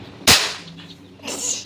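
A Diwali firecracker bursts with a single sharp, loud crack, followed by a brief fading tail and a softer hiss of noise near the end.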